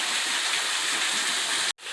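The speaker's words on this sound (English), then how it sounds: "There's that pool of water and waterfall." A waterfall spills into a pool of water on wooded private land, giving a loud, continuous close rush of broadband hiss that drops out briefly near the end.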